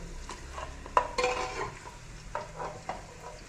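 Spices frying in oil for a beef trotters paya dish, stirred with a utensil: soft sizzling under a few scraping strokes and light clinks against the pot, close and modest in volume, no voices.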